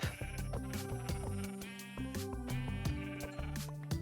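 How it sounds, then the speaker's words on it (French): Sheep in a survival video game bleat repeatedly, several wavering calls overlapping one another, loud and close, over a continuous music-like tonal background without speech. "Parfait, il y a des moutons."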